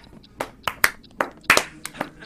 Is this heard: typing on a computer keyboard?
no